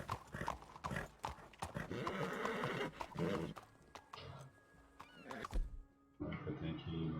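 Horse in the video game Red Dead Redemption 2, with steady clip-clop hoofbeats and a whinny up close, loud and alone for most of the stretch before a short quiet gap and renewed hoof noise.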